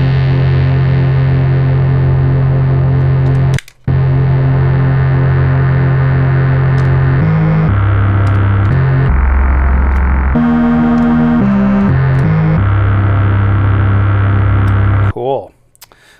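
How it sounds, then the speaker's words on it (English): A distorted wavetable synth from the Liven Bass & Beats, heavy and buzzing with a thick low end, playing sustained notes that shift pitch several times as the filter is swept, with a brief gap early on and no talking. "I'm gonna see if any distortion makes this interesting. mean, that's a beefy sound."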